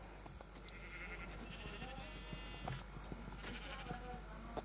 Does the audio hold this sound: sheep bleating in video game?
yes